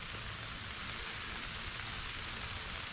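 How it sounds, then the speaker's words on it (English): Sleet and icy rain pattering on a hot tent during winter camping, a dense, steady hiss of countless tiny impacts on fabric, continuous and even, heard close from inside. "it's like sleet, like little icy balls of rain and water"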